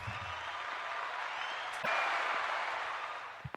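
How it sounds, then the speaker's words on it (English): A soft, continuous wash of applause welcoming a guest onto an online platform, faint and steady, with a slight step up partway through and a couple of clicks at the end. "Let me give you some applause."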